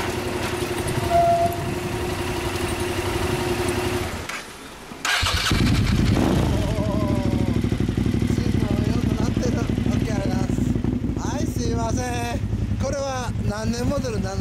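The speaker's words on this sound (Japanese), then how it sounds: "はい、 そのエンジン音聞かせてもらえますか？" 1998 Suzuki TL1000R motorcycle fitted with a Two Brothers exhaust, its engine running loudly nearby with a short dip, then a strong roar and revs. Wind buffets the microphone and people talk over it.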